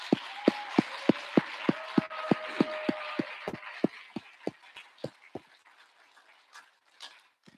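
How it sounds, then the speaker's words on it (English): Clapping at a church inauguration service, sharp, evenly spaced claps in a steady rhythm like a few people clapping in unison, gradually thinning and fading out toward the end. "So let's give them one more round of applause."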